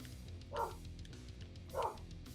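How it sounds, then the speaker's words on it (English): An angry dog barks somewhere far off, two faint, brief barks about a second apart over a low, steady background hum. "There's a dog just going bork bork."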